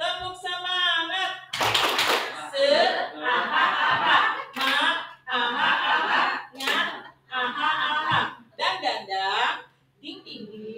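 A group's rhythmic cheer clap, a few sharp broadband claps breaking up a leading voice that chants and talks almost continuously, close and moderately loud.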